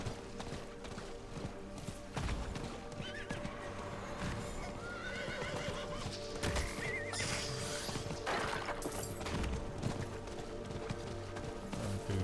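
Horse hooves clip-clop in the video game Diablo 4 while riding, with steady rhythmic hoofbeats, horse neighs and whinnies, and scattered game sound effects over a continuous background.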